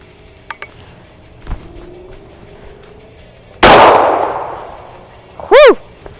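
A Berika Arms SS410 single-shot .410 shotgun fires a Federal high brass shell at a shooting range: one loud, sharp blast with a long trailing echo, preceded by faint clicks and followed by a brief rising whistle-like tone.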